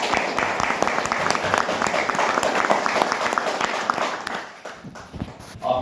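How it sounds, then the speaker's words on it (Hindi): Loud audience applause at a lecture on India's freedom movement, continuous dense clapping that eases slightly toward the end before a last swell. "उनमें से बिस्सा जी एक जोरदार ताली।"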